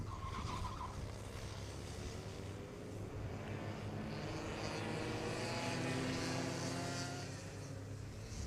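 Rotax Max racing karts on a track at turn 1 during a three-kart crash, a loud, continuous engine roar with rising and falling pitch and tire noise, heard from a distance with no voices.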